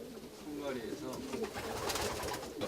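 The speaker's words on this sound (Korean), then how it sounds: "여기가 그 수입한 그 새끼를 받는 비둘기들이에요." Racing pigeons bred for competition coo softly in a loft, a low, murmuring warble running steadily through the short stretch, with a faint voice in the background.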